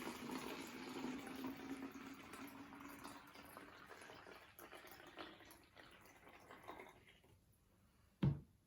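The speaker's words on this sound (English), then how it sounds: "I'm going to open it up and pour about half of water" Water poured into a bottle at home, a soft continuous trickle and gurgle that slowly fades out, ending in a single sharp knock near the end.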